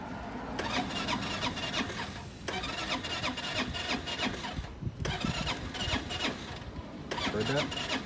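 Scooter engine cranked by its starter motor, then running with a steady mid-pitched hum and whine, broken by two brief dips around the restarts.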